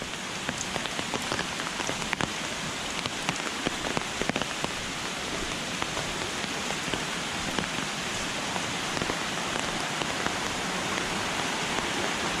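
Chan Ta Then waterfall in Chonburi, a shallow cascade spilling over boulders and rocks, roars as a steady, dense wash of close falling water with no pauses and no voices.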